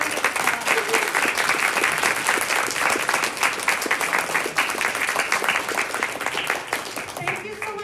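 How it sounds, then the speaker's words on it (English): Sustained applause from the audience at a youth poet laureate commencement event, a broad, even wash of many hands clapping for several seconds, fading slightly toward the end. "let's give them a big, big, big round of applause"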